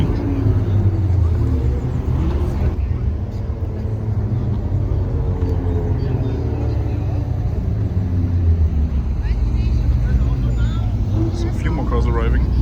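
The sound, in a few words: cars arriving at a car meet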